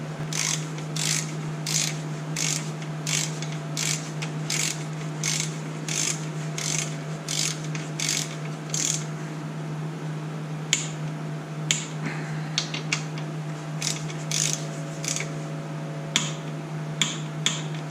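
A torque wrench ratchets on a 12 mm front brake bolt of a 1985 Honda Shadow 700 motorcycle, giving a steady run of close, crisp clicks, then sparser single clicks over a constant low hum.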